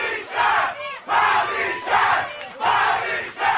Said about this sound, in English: they're chanting Pat louder than they were chanting Bobby Shaft